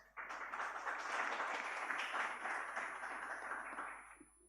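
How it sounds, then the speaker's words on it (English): Applause from a university conference audience, steady and fairly even for about four seconds before tapering off, with no talking over it. "So please give Bu Kamala applause."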